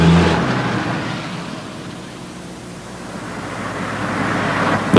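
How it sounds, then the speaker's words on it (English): Vehicle engine noise and tire rush from a car swinging around in a bootleg turn during evasive driving training, loud at first, dipping through the turn, then building again as it accelerates away. "The bootleg gets you turned around at road speeds."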